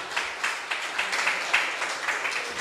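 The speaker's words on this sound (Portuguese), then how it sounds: "Dê uma salva de palmas ao Senhor Jesus Cristo" A church congregation applauding during a service, a fairly faint patter of hand claps with rhythmic pulses, no voices over it.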